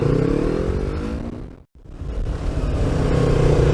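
A Yamaha R1 motorcycle accelerating on a highway to overtake, loud engine roar rising in pitch, briefly dropping away mid-clip, then building strongly again.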